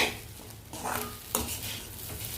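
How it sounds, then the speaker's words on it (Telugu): Fish frying in a little oil in a pan, a soft sizzle broken by stirring scrapes and light utensil knocks, close and fairly quiet, with no speech. "చూడండి ఇలా ఫ్రై అయిపోతాయి, కొంచెం ఆయిల్ పడుతుంది దీనికి"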